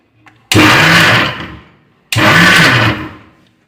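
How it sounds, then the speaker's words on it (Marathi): A mixer grinder pulses corn kernels in two loud, close bursts of roughly a second and a half each, separated by a short silence. "मक्याचे दाणे आहेत ना हे मिक्सरमध्ये थोडे बारीक करून घ्यायचे"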